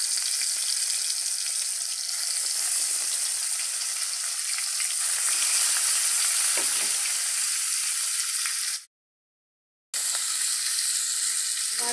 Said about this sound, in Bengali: এবার মাছগুলো আমি দিয়ে দিলাম।